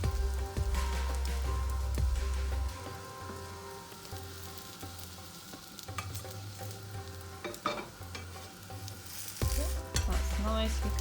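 A spiced Indian omelette fries in oil in a pan, sizzling steadily with crackles and occasional scraping stirs, close and moderately loud with no talking.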